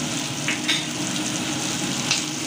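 Ginger garlic paste sizzles in hot oil, a steady dense crackle holding throughout with a few brief stirring scrapes and no voices.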